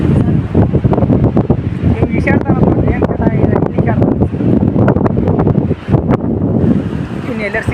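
Strong wind buffeting the microphone outdoors, a loud continuous rumble with gusts, while people talk over it throughout.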